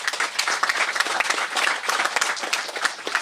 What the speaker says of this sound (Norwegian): Klapp for Jan-Erik.